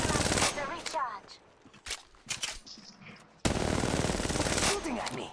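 Gunfire in the mobile battle royale game Apex Legends Mobile: loud sustained bursts of automatic fire at the start and again in a long stretch near the end, with sparser shots and game voice callouts between.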